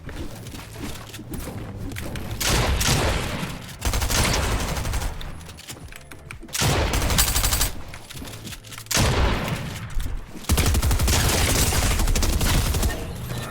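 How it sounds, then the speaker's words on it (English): SMG gunfire in Fortnite shooting at a wall, rapid loud bursts of automatic fire in several long strings separated by short pauses. "I'm shooting a wall to take a wall with my SMG"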